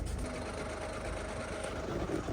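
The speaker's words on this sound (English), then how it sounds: "That's not a normal sound for a diesel engine." Ford Focus diesel automatic engine running rough and abnormal, a steady low mechanical clatter with a faint tonal whine, close and continuous throughout, no voices.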